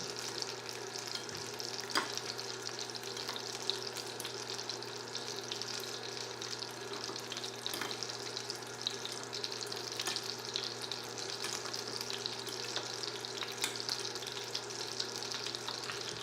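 Ingredients stirred in a hot pan of oil and butter while cooking jerk shrimp fettuccine alfredo, giving a faint, steady sizzle with light, occasional scrapes and taps of the utensil.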